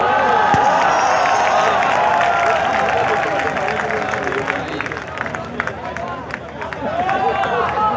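Audience at a large mushaira at Karachi's Expo Center greeting the poet Rehman Faris from Lahore, steady dense clapping and crowd noise filling the whole stretch, loud and close with a broad hall wash, easing slightly before swelling again.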